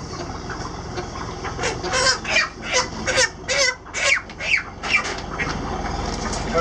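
Chickens cluck and squawk repeatedly at close range just before poultry processing, a busy run of overlapping calls over a steady farmyard background.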